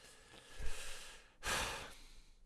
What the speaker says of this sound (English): I'm trying to do like controlled nasal breathing